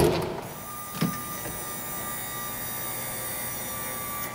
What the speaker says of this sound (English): That noise right there is the pump priming itself to get ready to go.